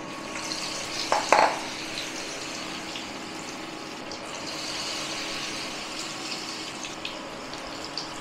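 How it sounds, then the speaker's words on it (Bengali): Cauliflower fritters frying in hot oil give a steady, fairly quiet sizzling hiss throughout, with a brief louder crackle near the start as a fritter drops into the oil. "তেল ভালোই গরম হয়ে গেছে, এবারে একটা করে নেবো আর দিয়ে দেবো।"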